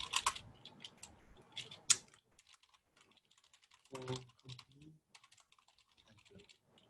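Someone typing a short word on a computer keyboard: a few scattered quick key clicks, close and quiet, with brief pauses and some soft faint voice sounds in between.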